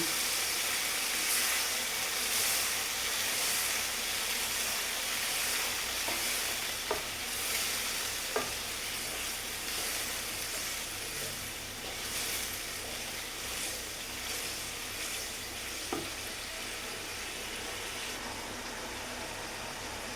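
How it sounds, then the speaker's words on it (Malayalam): Chopped onions for an egg and black pepper curry simmer in water in a pan, giving a steady, even bubbling hiss throughout with a few faint clicks and no voices. "ഞാൻ ഇതിലേക്ക് കുറച്ച് വെള്ളം ഒഴിച്ച് കൊടുക്കും കേട്ടോ സവോളയും എല്ലാം ഒന്ന് വെന്ത് കുറുകുന്നതിന് വേണ്ടിയിട്ടാണ്"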